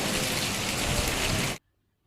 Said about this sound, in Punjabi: ਬਾਰਿਸ਼ ਵੀ ਤੇਜ਼ ਹੈ ਹਵਾ ਵੀ ਤੇਜ਼ ਹੈ